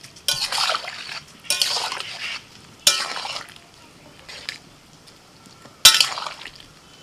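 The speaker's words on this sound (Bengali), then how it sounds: "ঢাকাটা খুলে একবার নাড়াচাড়া করে দিলাম" Cauliflower and potatoes boiling in salted, turmeric-tinged water in a wok are stirred in four separate bursts of scraping and sloshing, each fading into a soft bubbling simmer between stirs.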